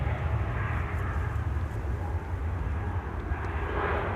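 A KLM Embraer E195-E2 jet bound for Bologna gives off a steady, moderately loud engine rumble at Schiphol, low and continuous, with a slight rise in brightness toward the end and no talking.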